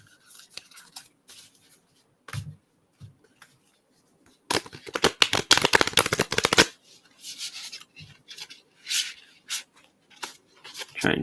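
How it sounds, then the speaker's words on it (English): Tarot cards are shuffled in quick riffling bursts, a dense flurry in the middle and lighter shuffles and taps around it, close by with no talking. "try and shuffle as quietly as I can"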